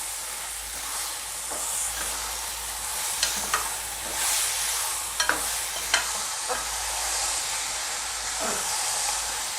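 Eggplant curry gets stirred in a pan, a continuous hissing sizzle with occasional spoon taps and scrapes, close and fairly loud throughout.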